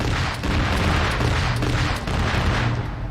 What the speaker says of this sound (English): I just hear explosions.